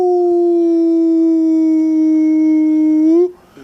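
A human voice imitates a dog howling at night, holding one long, steady, loud wavering howl for about three seconds before it breaks off abruptly.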